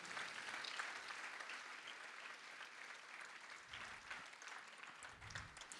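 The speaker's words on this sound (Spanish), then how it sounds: "Alguien dele un aplauso al Señor" A church congregation applauds during a sermon, a steady wash of clapping from many hands that holds evenly at moderate volume throughout, with a few scattered low thumps near the end.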